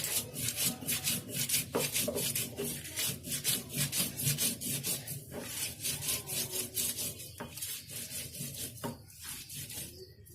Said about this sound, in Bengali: এখন আমি বেটে নিচ্ছি